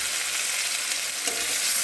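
Chopped onion and tomato hit hot oil with reddened cumin in a pan and sizzle steadily, a loud, dense hiss of frying that continues without pause and with no voices.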